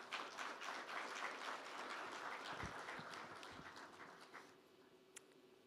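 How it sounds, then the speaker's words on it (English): An audience at a forum session applauds a foreign ministry dignitary, a faint, distant wash of clapping that gradually thins out and fades toward the end. "please give him a big round of applause"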